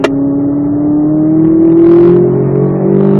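A Corvette Z06 powers out of a corner on a racetrack, its engine note rising steadily in a loud, close, continuous climb under acceleration.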